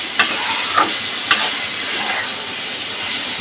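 Chili chicken with a cornflour slurry is stirred in a hot pan, giving a loud, continuous sizzling hiss punctuated by a few sharp scrapes of the spoon.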